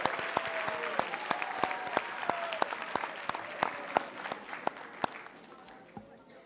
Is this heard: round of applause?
yes